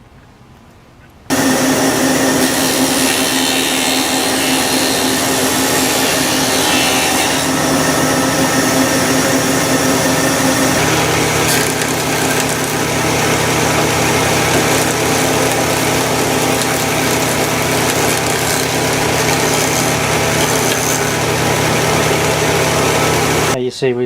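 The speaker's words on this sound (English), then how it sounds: "then we move over here to our dado cutter." A two-spindle shaper fitted with a dado cutter mills window parts, its loud steady motor whine kicking in abruptly and holding throughout, shifting tone midway as the cut proceeds.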